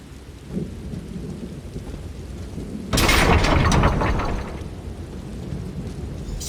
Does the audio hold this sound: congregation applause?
no